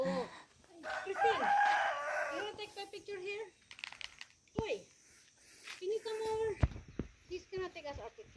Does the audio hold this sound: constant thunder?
no